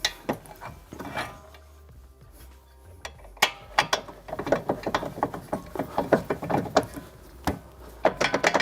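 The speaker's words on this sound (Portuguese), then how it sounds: "Com a ferramenta elétrica eu vou fazer só um encoste, né? Eu vou encostar a porca aqui" Electric power tool running a nut down on the front shock absorber of a 12th-generation Toyota Corolla, heard as a string of sharp mechanical ratcheting clicks and rattles that grow denser and louder midway, close by with no talk.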